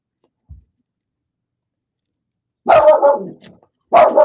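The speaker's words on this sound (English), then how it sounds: "I came on screen as the dog barked." A dog barks in two loud, close bursts, with a faint soft thump just before, heard during an Olympic men's ice hockey game between Canada and Switzerland; no talk accompanies the barks.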